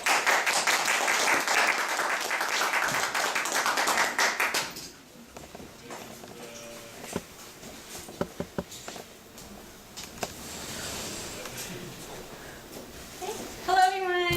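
Audience applause welcoming Lianne Bronzo, the first speaker at a community gifting talk: dense clapping for about five seconds, then fading to scattered claps, taps and murmurs.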